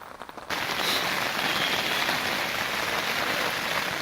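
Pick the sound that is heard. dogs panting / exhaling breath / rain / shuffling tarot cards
rain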